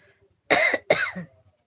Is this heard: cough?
yes